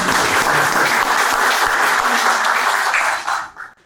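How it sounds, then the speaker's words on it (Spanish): Audience applause at a formal event, loud continuous clapping from a crowd that holds steady for about three seconds and then quickly dies away. "Así que lo despedimos con un aplauso."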